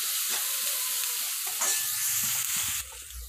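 Spoon stirring turmeric, red chili powder and spices into a sizzling cluster bean masala gravy in a pan, with a steady bright hiss and soft scraping strokes throughout, the frying dropping slightly toward the end.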